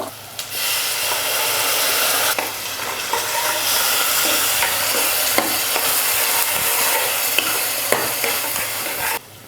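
Steady sizzling and crackling of spinach greens frying in hot oil, with occasional stirring scrapes, continuous and close for the whole stretch.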